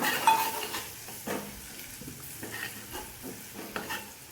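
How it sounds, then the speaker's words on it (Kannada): A spoon stirs sambar powder mixed with ingredients in a pan on the stove over a soft sizzle. Quiet scraping strokes come at an irregular pace, and no voices are heard. "ಸಾಂಬಾರ್ ಪೌಡರ್, ಇದನ್ನು ಚೆನ್ನಾಗಿ ಮಿಕ್ಸ್ ಮಾಡ್ಕೊಳ್ಳೋಣ"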